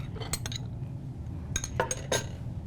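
A spoon clinks against a bowl while food is mixed, giving a few light metallic taps in two short clusters over a low background hum, close and fairly quiet, with no talking.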